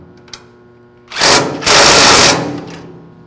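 Socket wrench turning a bolt on a DumperDogg dumper accessory, giving two loud, close bursts of dense ratcheting noise about a second apart, alone.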